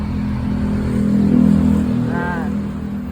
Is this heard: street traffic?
yes